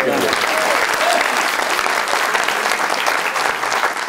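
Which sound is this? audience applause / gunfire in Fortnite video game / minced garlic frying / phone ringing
audience applause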